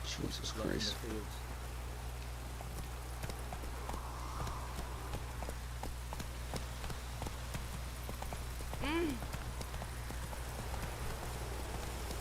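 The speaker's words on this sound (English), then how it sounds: "I'm gonna get on the damn horse." Horse hooves clip-clop at a steady trot in The Witcher 3 video game, with rain falling throughout and a low constant background hum, while a voice talks faintly in places.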